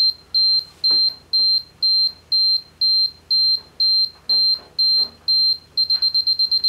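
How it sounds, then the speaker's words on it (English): A Canon AE-1 film camera's self-timer beeps in a steady, evenly spaced series of short high tones, then switches to a faster run of quick beeps near the end, with no talking over it. "So you push that down, camera beeps."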